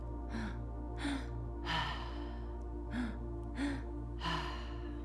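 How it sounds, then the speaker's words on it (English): Long breathwork exhales pushed out through the mouth, about five breathy bursts in a slow, steady rhythm over a constant low hum, with no talking. "exhale, tummy, chest, exhale, all in and out through the mouth"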